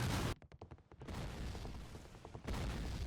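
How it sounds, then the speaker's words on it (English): Grenade explosion in the Civil War: Secret Missions video game, a loud sustained boom with rumbling debris, then a quieter stretch and a second heavy burst near the end. "A single grenade right here should be all you need to clear out the stock"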